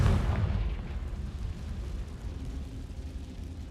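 Confringo spell explosion in Hogwarts Legacy, a loud heavy boom at the start that decays into a long low rumbling tail, with no voices.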